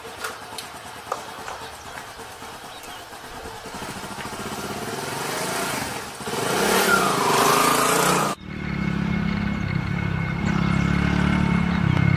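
A motorcycle engine hums steadily, then revs up and climbs in pitch before dropping and settling into a louder, sustained roar, fairly close and with no talk over it.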